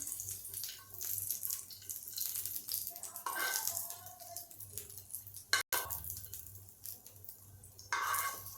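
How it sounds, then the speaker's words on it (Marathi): Paneer pieces dropped into a bowl of water for a dhaba-style palak paneer, giving a wet splash and running-water wash with small rattles and drips, close and steady, with a brief clunk midway and no talk. "हे पनीर मी जर असं पाण्यामध्ये टाकते"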